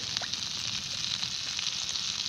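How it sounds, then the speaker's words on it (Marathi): Fresh chivni fish frying in a pan, giving a steady close hiss of hot oil with faint crackles throughout, heard alone without speech. "मस्त अशी चिवणी परतून किंवा तळून म्हणायचं तयारच झाली"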